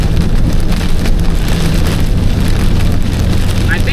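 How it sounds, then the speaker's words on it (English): Heavy hail and rain pound loudly and continuously on a 1986 square body truck while it is driven through a storm, a dense drumming roar over the road noise. "I think I'm hearing hail, but I'm not quite sure."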